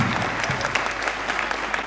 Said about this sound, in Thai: ขอเสียบปรบมือดังๆให้กับพี่น้องทั้งสองท่านอีกครั้งหนึ่งนะครับ